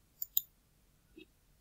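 A few soft computer mouse clicks on an OK button, a quick double click followed by a fainter single click in an otherwise quiet room.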